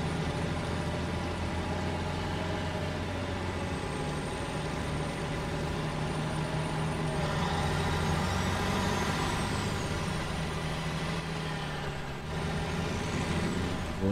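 In Snowrunner, a big truck strains to pull a seriously heavy trailer, its engine holding a constant low growl layered with whines and a faint high squeal. The sound runs unbroken and close for many seconds, alone.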